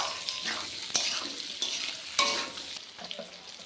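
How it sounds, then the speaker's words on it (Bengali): Potatoes fry in hot oil with a steady sizzling hiss, while occasional sharp scrapes and taps of a spoon in the pan punctuate the cooking. "এই তেলে আলুগুলো দিয়ে দিলাম এবার একটু ভেজে নেব"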